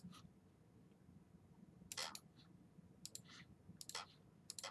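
A computer mouse clicking while copying and pasting quiz feedback in Moodle: a handful of quiet, sharp clicks, some in quick pairs, scattered over a few seconds above a faint low room hum, no talking.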